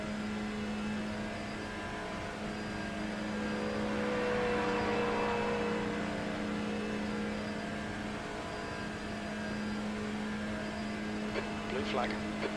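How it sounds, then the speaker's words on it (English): Race-car engines in a TCR touring-car endurance sim race droning steadily at moderate loudness, swelling slightly as faster cars approach and pass, with a brief higher whine near the end. "Faster cars approaching."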